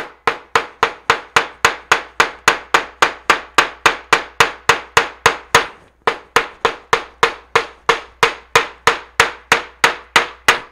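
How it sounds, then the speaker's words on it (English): Steady, loud hammer blows land close by as plant leaves and stems are pounded onto paper, about two or three per second, with one brief pause midway. "The stem requires a little bit more pounding."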